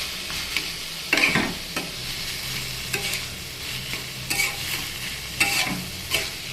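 Black cumin seeds sizzle in hot oil while banana stem cooks in the pan with sesame paste. A steady fry is punctuated by repeated, fairly loud spatula scrapes at irregular intervals.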